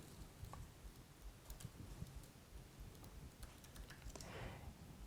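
Keys being typed on a computer keyboard while writing code, a scattered run of soft clicks and taps over steady background noise, with no talking.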